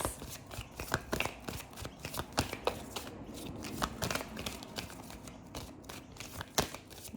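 Playing cards shuffled repeatedly up close, a rapid run of crisp riffling snaps and slaps in an irregular rhythm, with no talking.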